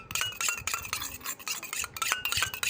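Ketchup mixed with iodine being stirred in a small container, a steady run of close scraping, rubbing strokes in an uneven rhythm with brief pauses between sweeps.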